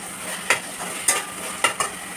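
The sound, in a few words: stirring carrot beetroot halwa in ghee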